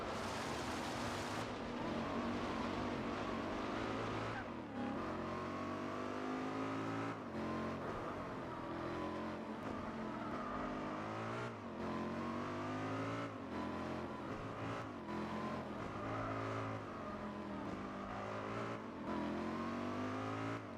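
Race car engines roar in Gran Turismo 4, a Camaro among them, with continuous revving and shifting engine tones, rising and falling pitch through gear changes, loud and unbroken, with no speech.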